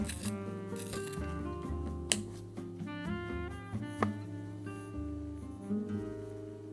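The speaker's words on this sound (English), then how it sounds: "I'm gonna start with sketching with my vermilion colored pencil" A vermilion colored pencil scratches and rubs across sketchbook paper in short, quiet strokes, close and soft with small pauses between lines.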